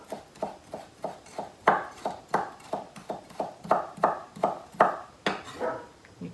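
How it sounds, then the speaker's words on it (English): A knife slicing cabbage into julienne matchsticks for sauerkraut on a cutting board, a steady run of about eighteen crisp close chops at an even rhythm, with no talking. "you cut it into slithers"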